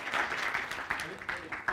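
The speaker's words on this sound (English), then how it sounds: "Big round of applause to this team." A crowd claps steadily for a team at the Garage48 Future of Wood: Rebuild Ukraine 2022 hackathon finals. The applause is dense, fairly loud and continuous, with a few sharper bursts and some voices mixed in.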